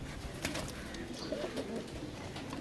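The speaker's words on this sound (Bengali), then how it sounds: "ছেড়ে দেখাও দেখি পায়রাটা" A pigeon coos softly just after being released, low throaty calls repeating over a faint noisy background, with no clear wing flapping evident.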